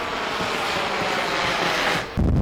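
A rocket-powered model of a sixth-generation J-36 jet launches with a continuous, close, roaring rush of thrust that cuts off into a sharp, louder burst near the end.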